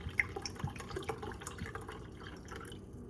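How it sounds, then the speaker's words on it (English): Harmonic Bridge Pinot Grigio, a 2019 white wine, poured from the bottle into a glass, a soft close trickle and splash with small drips running for about three seconds, with no talking. "I think I poured a little too much"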